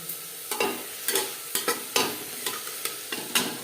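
A spoon stirs mutton paya in a hot pan with a steady sizzle, giving about eight evenly spaced scraping strokes over the frying, close and loud with no voices.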